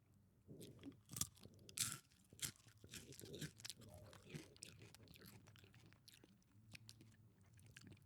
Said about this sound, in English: Crunching in front of the camera, and you'll get the best crunch, dude.